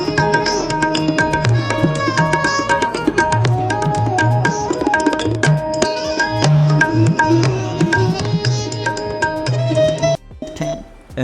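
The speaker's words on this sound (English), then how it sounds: "hear the touch of sitar and the repetitive rhythms" AI-generated Indian-style music with sitar and traditional drums, plucked sitar melody over a repetitive percussive rhythm, loud and continuous before cutting off abruptly near the end.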